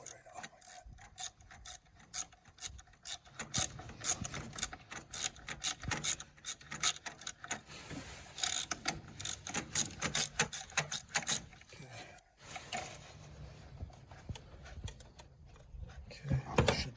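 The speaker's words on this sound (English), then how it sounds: "There's our 10 millimeter right here. All we gotta do is take that off." A ratchet wrench clicks rapidly in repeated bursts while loosening a 10 mm bolt on the purge valve of a Chevy Traverse, close and crisp, with a brief pause before a final burst and no talking.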